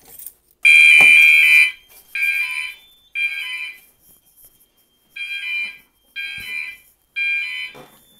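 A Notifier AFP-200 fire alarm panel, triggered from a pull station, sounds in repeated electronic tones, one long blast followed by shorter evenly spaced pulses, close by in a quiet room.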